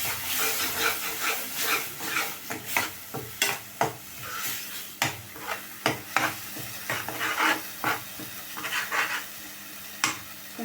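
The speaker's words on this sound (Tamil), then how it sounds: "நல்லா வதக்கிடலாம்" Stirring and sautéing chutney ingredients in a pan, spatula scrapes and knocks repeating irregularly over a soft frying sizzle, close and fairly quiet.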